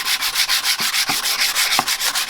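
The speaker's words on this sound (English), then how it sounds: "we're going to actually sand down the edges" Rhythmic back-and-forth rasping of a sanding square worked along the edges of a wooden shelf kit, close and steady with regular strokes and no talk.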